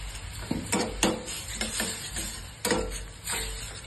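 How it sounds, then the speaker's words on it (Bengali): Spices being fried and stirred in a pan for Bengali dal tempering, with Kashmiri chilli powder moistened with dal water; repeated scraping and stirring strokes over a soft sizzle, close and steady, with no talk. "মশলা কষা"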